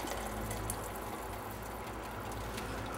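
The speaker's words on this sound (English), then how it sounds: "and then you pour the soup back" Soup pours steadily into a bowl for Ipoh kway teow noodle soup, a soft continuous splashing gush heard close up and fairly quiet, with no talking.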